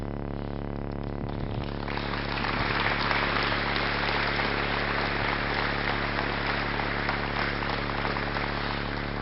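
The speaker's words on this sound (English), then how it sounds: "Would everyone please join me in standing in applause to celebrate Bruce and his legacy at Willamette?" A gathered audience at Willamette University gives sustained standing applause, a dense, even wash of many hands clapping at a steady level for several seconds over a humming background.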